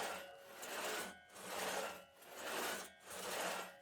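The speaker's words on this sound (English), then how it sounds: "This is my brother-in-law and his son sawing through some full pine logs with that two-handed saw." Two people work a two-person handsaw back and forth through a full pine log, four rhythmic rasping strokes at an even pace, close and fairly faint, with no talking.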